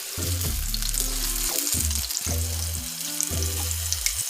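Plantain fries for a stovetop vegan relleno de platano in just enough oil to coat the bottom of a frying pan, a steady, close crackling sizzle that runs throughout with no speech.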